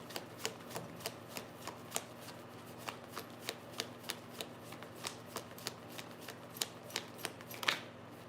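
Tarot cards being shuffled, a quiet, close series of regular crisp riffles about twice a second over a faint steady hum, with no talk.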